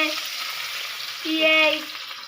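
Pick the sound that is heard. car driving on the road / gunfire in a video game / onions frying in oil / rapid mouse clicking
onions frying in oil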